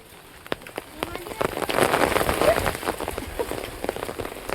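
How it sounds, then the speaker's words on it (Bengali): Heavy monsoon rain pours down steadily in a Sundarbans village, swelling louder midway, with a faint voice under the downpour. "আজকে যা বৃষ্টি হয়েছে, এমন বৃষ্টি কি দেখেছেন এই বছরে এখনো?"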